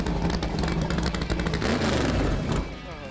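A loud ride car launching on Thunder Mountain sends out a continuous roaring, clattering rumble that holds steady for nearly three seconds and then drops away as it pulls off.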